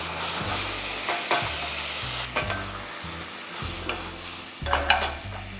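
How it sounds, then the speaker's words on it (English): Onion paste hitting hot oil for an Indian tadka, a loud, close, continuous sizzle and hiss with repeated stirring scrapes every second or so, no voices. "into which I'm going to be adding 2 tablespoons of some onion paste."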